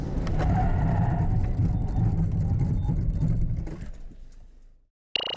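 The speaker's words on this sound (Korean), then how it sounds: "링컨 커세어 과연 어, 잘 달리는 만큼 잘 서는지 한번 볼까요?" Lincoln Corsair braking hard in a stopping-distance test, a loud rushing road and tire noise that fades down to near silence as the car comes to a halt, followed by a sharp sudden sound at the end.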